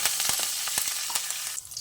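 Cumin seeds, curry leaves and a pinch of asafoetida sizzling in hot oil in a pan for sabudana khichdi, a steady close crackling hiss with small spattering pops throughout.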